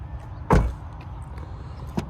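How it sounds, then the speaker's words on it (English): Manual child lock on a 2026 Toyota RAV4 XSE rear door being locked and unlocked: one sharp, fairly loud click-thunk, then a fainter second click about one and a half seconds later. "they are manuals with either door. You can just lock, unlock there."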